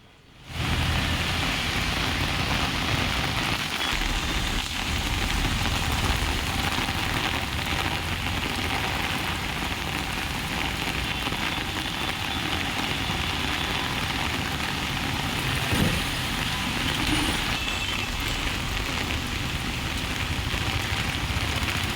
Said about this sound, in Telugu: తదితర ప్రాంతాల్లో భారీగా వాన కురుస్తోంది